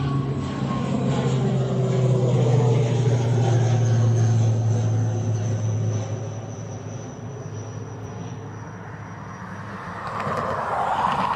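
ATR turboprop aircraft at Dublin Airport, a steady droning propeller and engine whine that holds, then eases and fades slightly before swelling again, heard from a moderate distance with no voices.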